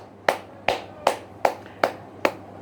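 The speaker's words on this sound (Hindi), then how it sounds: "एक बार जोरदार ताली से इनका अभिनंदन करें" Six evenly spaced, sharp hand claps, loud and close, each ringing briefly in an indoor room, with no voices.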